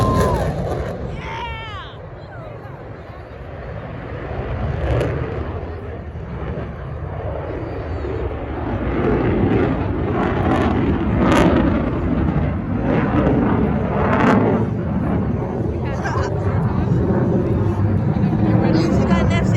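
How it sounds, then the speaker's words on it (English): An F-16 fighter jet on afterburner passes at an airshow, a loud rolling roar that builds and crackles over the crowd while people talk and exclaim throughout. "He's got an F-16 this year. Look at that afterburner."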